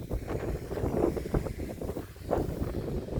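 Wind blowing outdoors at night during largemouth bass fishing in Illinois, a steady buffeting rush across the microphone with gusty swells and faint rustling, no voices present.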